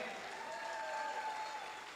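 Applause from a seated audience at a motivational talk, a steady moderate wash of clapping held throughout, heard from within the room with no distinct voices.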